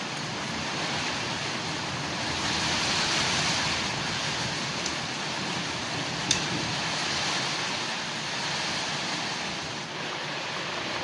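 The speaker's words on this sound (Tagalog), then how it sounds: "Pasensya na kung may maingay dahil ulan dito sa amin." Heavy rain hisses steadily and evenly throughout, a dense wash of noise with a few faint sharp ticks.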